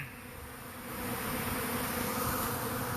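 A honeybee swarm settling into a custom hive barrel in bright sun hums as a dense, steady buzzing drone that swells slightly louder and fuller partway through, close and continuous with no talking.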